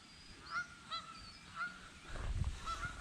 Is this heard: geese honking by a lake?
yes